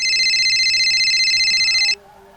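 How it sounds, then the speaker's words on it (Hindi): A phone rings with an incoming call on the night of a mehndi celebration. A steady electronic ringtone plays loud and close for about two seconds, then stops abruptly with no talk over it. "इतने में गौरव का फ़ोन आ जाता है।"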